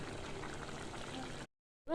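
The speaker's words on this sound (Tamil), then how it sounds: "நல்லா கொதிச்சிருச்சு" Chana masala gravy simmering in a pan, a soft continuous bubbling hiss at low volume that cuts off abruptly near the end.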